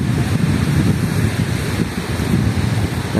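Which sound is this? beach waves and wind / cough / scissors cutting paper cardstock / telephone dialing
beach waves and wind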